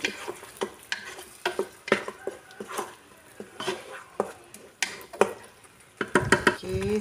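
A ground spice paste frying in oil for Terengganu beef gulai is stirred in a pan, with steady sizzling and repeated scraping knocks of the spoon against metal, close and fairly loud.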